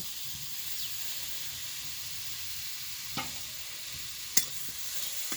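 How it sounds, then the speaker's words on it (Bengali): Grated coconut and sugarcane jaggery are stirred with a metal spatula in a hot wok, giving a steady soft sizzle and hiss with a few scraping knocks, quiet and close. "একটু এইভাবে খুন্তি দিয়ে নাড়াচাড়া করতে থাকবো"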